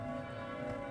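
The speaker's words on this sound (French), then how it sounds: "on l'entend surtout, les cloches" Church bells of a remote convent ringing, a sustained rich metallic tone with layered overtones, heard steadily at moderate distance and fairly faint in the open air.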